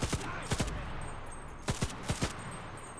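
Gunfire in a first-person shooter video game: a few sharp shots ring out in two quick bursts separated by a short pause, fairly loud and close with no talking.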